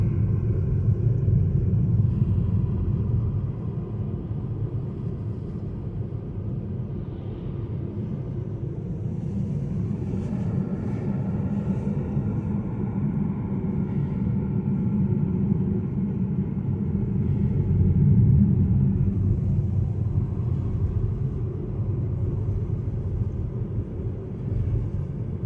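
A VW ID.3 electric car rolls down a slope at around 60 to 70 km/h, heard from inside the cabin as a steady low road rumble and tyre drone, continuous and even throughout, no talk.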